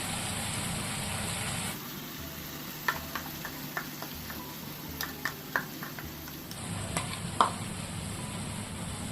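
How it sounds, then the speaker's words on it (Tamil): Masala paste for Kerala-style mathi fish curry fries in oil with a steady, soft sizzle. Faint scattered ticks and scrapes of stirring sound through it, with no talking. "மசாலா பேஸ்ட்டு நல்லா எண்ணெயில் வதங்கி எண்ணெய் தனியாக பிரிஞ்சு வரணும்"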